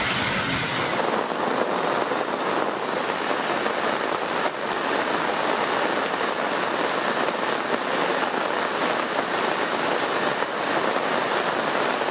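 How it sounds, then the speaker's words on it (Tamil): Heavy rain with strong gusting wind pours down over the Tamil Nadu delta region, a dense, steady hiss of downpour that stays loud and unbroken throughout, with no voices. "சூறைக்காற்றுடன் கனமழை பெய்தது"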